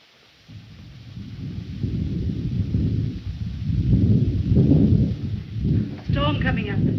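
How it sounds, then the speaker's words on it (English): Rumbling thunder from an approaching storm in an old 1930s mystery film, rolling in low and growing louder over several seconds, with a brief higher crackle near the end. "Storm coming up."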